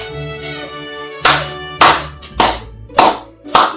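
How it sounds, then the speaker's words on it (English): Polite applause in the game Sunrider Academy, rendered as a series of about five sharp, evenly spaced clap bursts, loud and close, following a soft tonal music bed. "the audience politely applauded"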